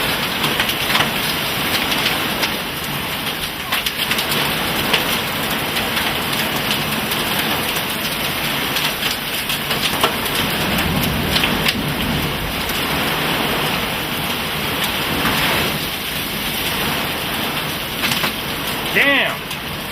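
Heavy rain and hail pour down in a 125 mph downburst storm in Middle Village, New York, a dense, loud, continuous roar with rattling impacts throughout, with people talking faintly beneath it.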